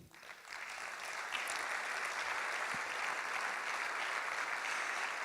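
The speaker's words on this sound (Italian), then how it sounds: "Li accompagniamo con un applauso" An audience at an architecture award ceremony in an auditorium breaks into sustained applause, starting quickly and holding a steady, fairly distant roar of clapping.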